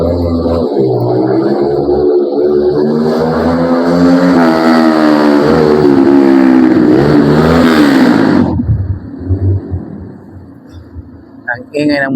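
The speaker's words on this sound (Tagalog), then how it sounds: "Ang ingay ng motor." A nearby motorcycle engine revs loudly on a street in the early hours, the rising, droning roar swelling for about eight seconds and then cutting off abruptly, followed by quieter street sounds.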